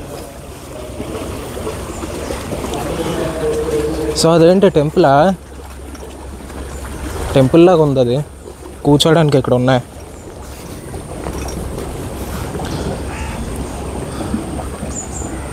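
A Yamaha engine drives a boat along the Alleppey backwaters in Kerala, giving a steady, even drone that runs the whole way through while people talk over it in a few short bursts.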